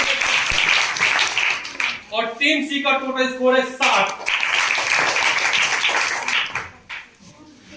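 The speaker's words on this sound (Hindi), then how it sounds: "एक बार जोरदार ताली।" Clapping from the audience at a science quiz competition show swells under a host announcing team scores, with a brief spoken stretch in the middle before the applause carries on.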